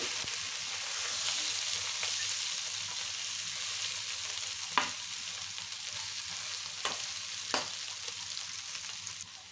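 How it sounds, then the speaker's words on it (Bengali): Cabbage bhaji fries gently in an uncovered pan over moderate heat: a soft, steady sizzle, broken by a few sharp clicks as the vegetables are stirred. "ঢাকনা ছাড়াই ভেজে নেব।"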